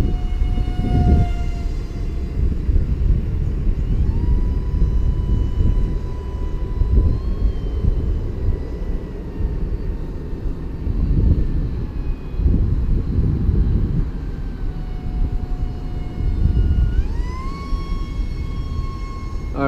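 An E-flite UMX Habu S 180 BNF, a small RC ducted-fan jet, flies in strong gusty wind. A steady high whine rises and falls in pitch as it passes, over constant wind rumble, with no talk.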